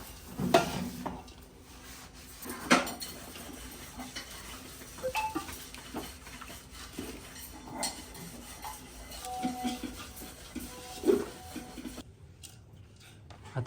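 Dry fruit mixture for laddu being stirred in a metal pan, soft scraping and rubbing with occasional clinks of a spoon against the vessel, fairly quiet and irregular.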